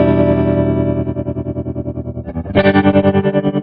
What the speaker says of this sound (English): You can speed it up as well if you want a really quick tremolo sound.